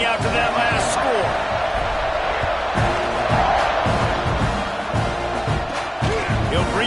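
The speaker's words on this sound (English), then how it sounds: "this crowd is buzzing after that last score" A football stadium crowd at a college game between TAMU and TCU keeps up a dense, loud, continuous roar and buzz after a score, with a commentator talking over it.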